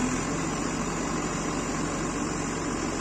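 A JCB 3DX backhoe loader works soil at a digging site, its engine giving a steady, dense drone with a faint low hum throughout and no pauses.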